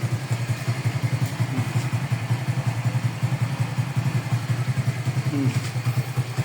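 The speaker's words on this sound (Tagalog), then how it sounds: "Mabilis pa yung makina." A motorcycle engine idles close by with a steady, rhythmic chugging putter, running continuously without talk.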